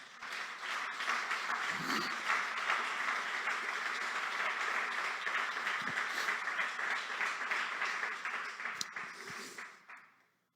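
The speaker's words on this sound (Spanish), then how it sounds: "Denle un aplauso al Señor." A church congress audience applauds a sermon with steady, sustained clapping that swells into a dense wash and then fades out near the end; no speech over it.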